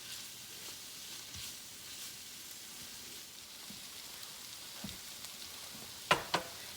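Cooked salmon heats in a frying pan with olive oil and butter or margarine, giving a soft, steady sizzle with faint crackles and two sharper pops near the end.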